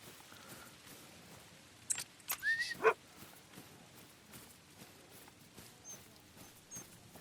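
Dog on a bird hunt in Scotland, a few quick yips and whimpers clustered together amid faint outdoor rustling and footsteps, mostly quiet and distant.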